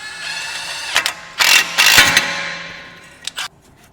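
An impact wrench breaks loose the jam nut on a tie rod during front suspension work on a Volkswagen GTI in a shop, giving a few loud rattling bursts of hammering, with a short final burst near the end.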